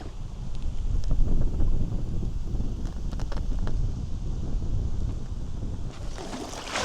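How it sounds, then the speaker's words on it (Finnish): A strong, gusty wind sweeps across the sea in a late-summer archipelago, blowing at about 8 metres per second with gusts of 12. It makes a constant, heavy roar and buffet close to the microphone, with bursts of splashing. "Vieläkin kova tuuli ollut, semmonen 8 metriä sekunnissa ja puuskis 12."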